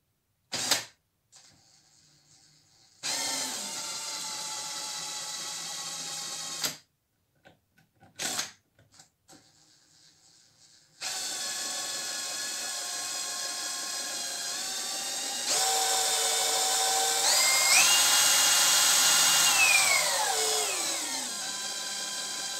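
Cordless drill driver spinning a small 12 V wind turbine generator, a steady whirring drone in bursts that rises in pitch as the speed climbs, then winds down near the end.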